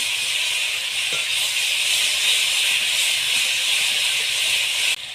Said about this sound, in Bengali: এবার হালকা ভেজে নেব।